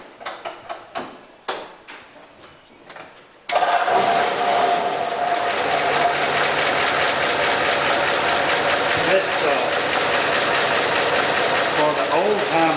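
An antique Ford engine, converted from a 6-volt to a 12-volt system, starts after a few seconds of talk and then runs loudly and steadily close by for the rest of the clip.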